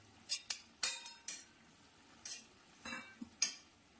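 Fried fish and eggplant pieces go into a simmering fish curry pan, giving a handful of sharp clinks and soft knocks of a utensil against metal spread over a few seconds, fairly quiet and close.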